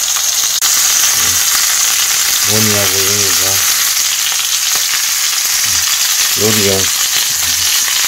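A US tomahawk steak sizzles and fries in a pan with a steady loud hiss, joined by brief clinks and scrapes from handling, while a person speaks Korean close by.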